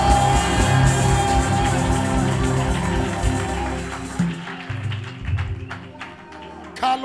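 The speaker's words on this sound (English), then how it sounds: "lift your voice and give the Lord a clap and a shout" A church congregation claps and shouts praise over sustained organ or keyboard tones, with taps and whoops scattered through the first four seconds before the crowd noise thins out.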